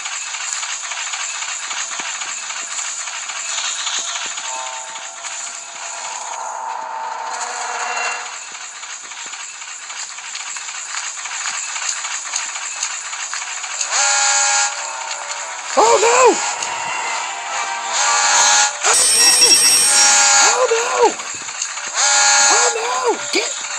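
A train in the video game Granny 3 rumbles and hisses loudly and steadily with a high whistle-like tone throughout, while a player talks and exclaims over it.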